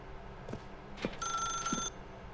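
An old-style telephone bell rings in The Stanley Parable video game, a single bright metallic burst lasting under a second, with soft thumps and clicks before it and low room hum beneath.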